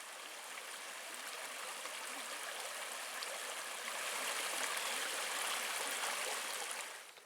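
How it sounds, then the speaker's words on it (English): Rushing water from a stream's rapids flows steadily and close by, a dense continuous wash that swells slightly louder midway before easing at the end, with no voices. "it runs right along this stream. Just the sound of that water."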